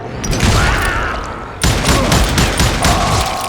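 Dense, loud gunfire in the Call of Juarez Gunslinger video game, a rapid overlapping burst of shots and booms that breaks briefly and then resumes just as intensely.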